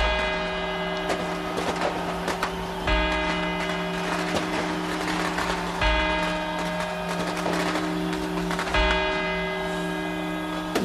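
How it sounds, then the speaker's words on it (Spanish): Large church bells ring out a slow quarter-hour chime from two side bells, with four strikes spaced about three seconds apart, each one ringing and resonating over a constant hum. "comenzarán los 4/4 de las 2 campanadas laterales"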